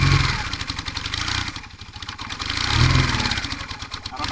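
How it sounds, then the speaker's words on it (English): A vintage Honda or Suzuki motorcycle engine revs up and falls back twice in a throaty, pulsing rise and drop, close and fairly loud, with no talk over it. "Rev it up, first gear."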